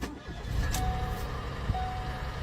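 A car with a 1.0 engine and a known oil problem tries to start, giving a faint cranking and rough engine turnover with a few thuds against low background noise.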